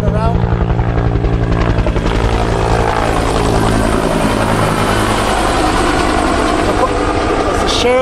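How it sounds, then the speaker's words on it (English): Helicopter circling overhead near an off-road trail in Corral Canyon, a loud steady rotor and engine drone that persists throughout, with faint talk and vehicle noise beneath. "The helicopter's going on and around."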